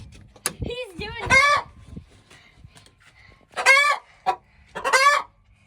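A rooster and an agitated hen squawk and cluck loudly in a backyard flock, sounding in several sharp bursts separated by short quiet gaps.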